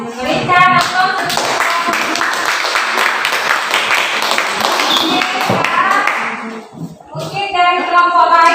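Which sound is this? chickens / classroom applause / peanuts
classroom applause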